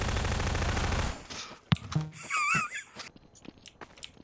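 Gunfire in a video game: a rapid machine-gun burst at first, then a few single shots and faint clicks, with no talking.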